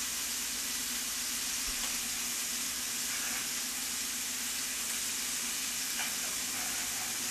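Steady, faint sizzle and hiss of tongues searing in a hot skillet, a continuous even frying noise with no talking.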